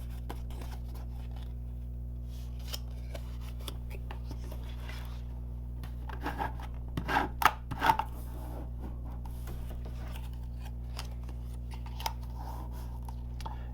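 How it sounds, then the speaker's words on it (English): Cardstock being folded and burnished along score lines for a UPS truck box card, a few quiet scraping and rubbing strokes in a cluster over a steady low hum, with no talking. "So I'm going to go ahead and fold and burnish along the score lines."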